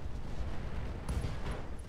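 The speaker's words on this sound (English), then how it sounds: "Ammo explosion." Ammunition explodes on a battling mech in the Roguetech game, a loud, dense rumbling blast with a burst of crackle partway through, filling the whole moment without talk.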